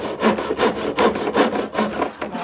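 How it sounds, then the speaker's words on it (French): A hand saw rasps through wood in steady back-and-forth strokes, about eight close, even strokes with no talking. "Rien de tel que la bonne scie"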